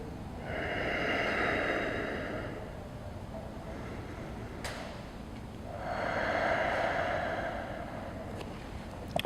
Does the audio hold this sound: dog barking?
no